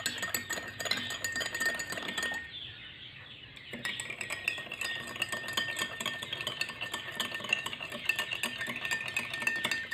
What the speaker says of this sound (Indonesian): Setelah itu diaduk sampai rata.